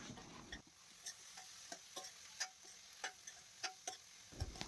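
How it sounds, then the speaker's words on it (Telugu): A spoon stirs pieces of ivy gourd frying with tempering spices in a pan, giving faint, evenly spaced scrapes and taps over a soft, steady sizzle. "మనం ముందుగా వేసుకున్న పోపంతా ఈ దొండకాయ ముక్కలకి బాగా పట్టే విధంగా స్పూన్తో కలుపుకుంటూ ఫ్రై చేసుకోవాలి"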